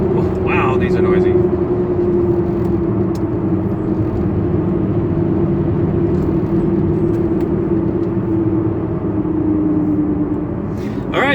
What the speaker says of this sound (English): And the tires are very noisy, as I expected them to be.